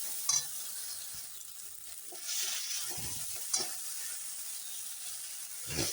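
Spice paste being fried and stirred in a pan for a lentil bori curry, a continuous bright hissing sizzle with a few scraping stirs and knocks, close and steady with no voices.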